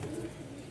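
A male pigeon gives a brief, low, throaty coo, close and moderately loud, among the sounds of a pigeon loft.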